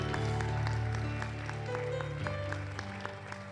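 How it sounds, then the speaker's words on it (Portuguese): Church congregation applauding during a Portuguese-language worship service, steady clapping over sustained organ or keyboard chords and music, moderately loud throughout. "Dê uma salva de palmas para Jesus."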